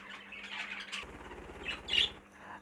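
Fife canaries in a bird shed give short close squawks and chirps, a few bright bursts over faint background rustling and low hum.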